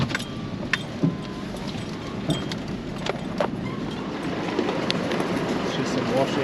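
A four-wheel drive vehicle rolls steadily over washouts and ruts on a mild bush track in Wallingat National Park, with continuous engine and tyre rumble, cabin rattles and occasional knocks close by.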